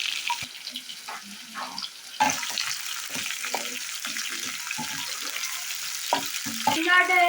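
Green chilies are stirred in a frying pan, giving a steady sizzle with scraping and clinking of the spatula, louder after the first couple of seconds and picking up again at the end.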